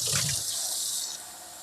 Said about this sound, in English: how would you guys hear the water running as I'm getting water